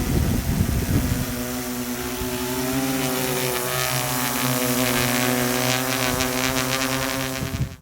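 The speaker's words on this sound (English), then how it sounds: "it makes a big difference when you hear this drone in the air" An xDynamics Evolve 2, a large cinema drone with taller front propellers, flies steadily overhead, its rotors producing a loud continuous multi-tone buzz with stable pitch and no talking.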